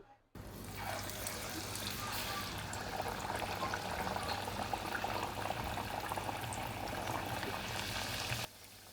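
Chicken vadas made without bhajani flour frying in hot oil, a steady bubbling sizzle that begins abruptly and holds evenly for several seconds before dropping away.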